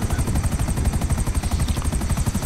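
A helicopter flying in GTA 5 Online, its rotor producing a steady rapid low thudding pulse with a whining engine tone above it, loud and close and continuous.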